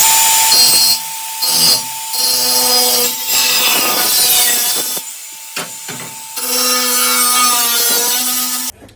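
A metal sill repair panel on a BMW E30 325i being cut with a power tool: loud, harsh grinding and rasping bursts with short pauses between strokes, a steady whine running underneath.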